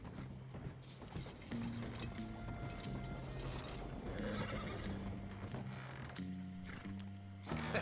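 A horse in Red Dead Redemption 2 whinnies and clops its hooves amid clanking mechanical rattles and a droning tonal background, busy and fairly close, with no talking.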